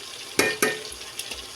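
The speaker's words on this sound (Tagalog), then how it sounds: "Ilalagay ko na rin ang aking bawang." Garlic going into a pan for spaghetti sauce, with a steady close sizzle and two sharp bursts of frying as pieces land, followed by a few lighter stirring taps, no voices.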